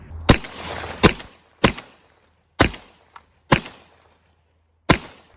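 Six loud, sharp blasts from a Remington 11-87 semi-automatic shotgun, fired at irregular intervals of about a second, each with a short decaying echo, and a faint mechanical click between two of them.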